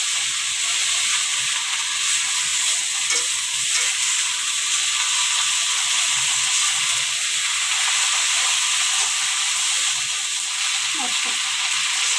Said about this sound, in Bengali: এবার আমি পাট শাকটা দিয়ে দিব আস্তে আস্তে পাট শাক